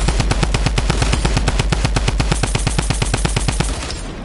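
Rapid automatic gunfire from a shooter video game, a loud close burst of evenly spaced shots fired in quick rhythm for several seconds before cutting off into a quieter tail.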